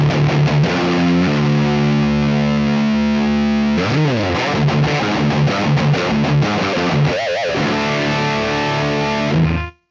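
Heavily distorted electric guitar plays through a virtual Mesa Boogie Mark IIC+ amp plugin, loud sustained chords and riffs with a bending passage midway before cutting off abruptly.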